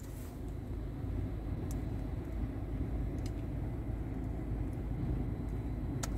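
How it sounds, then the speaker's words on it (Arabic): A Citroen or Peugeot car with a urea reservoir fault, its engine started and left running, gives a steady, close, low rumbling idle that holds evenly throughout with no talk over it. "نشغل السيارة عشان نتأكد من عمل النظام"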